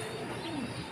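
Racing pigeons at a club loft give a soft, low cooing call, faint and brief against a steady background.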